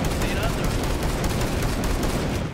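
Shotgun fire in Rainbow Six Siege, rapid loud blasts running almost continuously over a couple of seconds, dense and close, with a voice talking over the shots.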